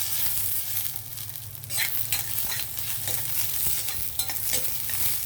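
Dry red chillies, cumin, coriander seeds, garlic and curry leaves sizzle in hot oil for a tempering, a steady bright frying hiss with occasional stirring scrapes, close and continuous without talk.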